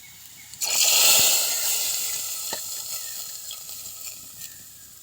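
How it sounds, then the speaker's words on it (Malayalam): Mustard seeds fried in hot oil for a curry tempering burst into a loud, steady sizzle after a short quiet start, then slowly fade while faint pops and crackles sound through it. "ഇതാ കടുകൊക്കെ ഒന്ന് വറുത്ത് നമ്മുടെ കറിയിലേക്ക് ഇട്ട് കൊടുക്കണം"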